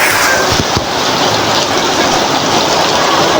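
Heavy rain from a typhoon pours down steadily at a poultry-raising home, a dense, constant hiss with no pause, a couple of faint low knocks early on.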